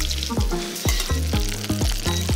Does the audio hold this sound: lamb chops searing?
yes